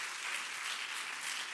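A festival audience applauds a debate round at the West Web Festival with soft, steady, distant clapping that holds evenly throughout.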